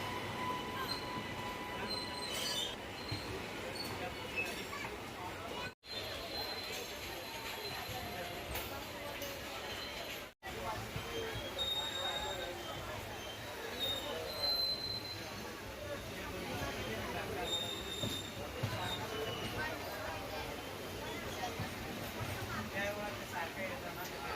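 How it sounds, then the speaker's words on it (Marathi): An intercity train rolls into Solapur railway station with continuous clatter and high squealing wheels, steady and loud throughout, with voices faintly mixed underneath. "आपली गाडी सोलापूर रेल्वे स्टेशनमध्ये प्रवेश करत आहे"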